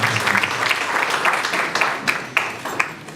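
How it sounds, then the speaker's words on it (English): Applause from a conference audience at a power-sector dialogue, a dense wash of clapping with a few sharper claps standing out, fairly close and steady throughout. "Another round of applause for"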